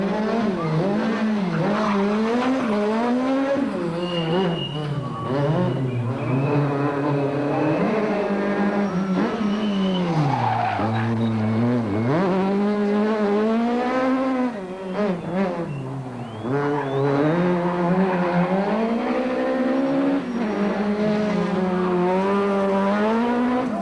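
Inside a Volkswagen rally car at a 2005 Volkswagen rally event, the engine is loud and close, revving up and down through repeated gear changes, with tyre squeal and skidding across the whole stretch.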